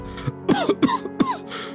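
People cough from poisonous blue gas in a cabin, several harsh, close coughs and throat-clearing bursts in quick succession.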